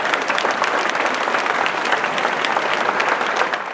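A crowd in Prague applauds after a Georgian dance performance marking Georgia's Independence Day, loud, sustained clapping with crisp individual claps, fading slightly at the close.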